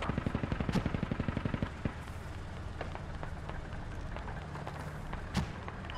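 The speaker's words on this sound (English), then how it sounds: "They're shooting us on top of our head." Rapid gunfire and heavy cannon shots from a T72B3 tank in the military shooter game Squad, a fast burst of close shots in the first seconds, then scattered single blasts and rumbling amid battlefield noise.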